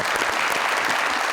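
Applause from a studio audience for the winner of a quiz segment on a Pakistani talk show, a dense, steady patter of clapping filling the whole moment without a break.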